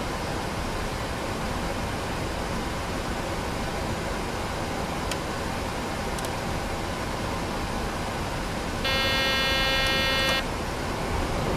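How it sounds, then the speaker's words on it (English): A cockpit warning buzzer sounds in a 737 NGX flight simulator, rising as a loud tonal alarm for about two seconds near the end over a constant loud roar of engine and cabin noise, with faint clicks earlier. "I have to listen to that buzzer."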